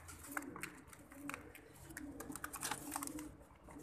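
Soft coos of champion homing pigeons repeat close by against a quiet outdoor background, with faint chirps from other birds mixed in.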